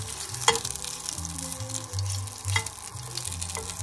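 Steady frying sizzle of tuna skin in a hot oiled pan, with a few sharp pops and crackles, close up, no talking.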